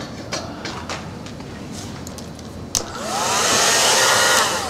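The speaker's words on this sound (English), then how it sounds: "so I'll use my hair dryer." A hair dryer starts up and blows steadily with a loud whooshing hiss after some quieter background clatter.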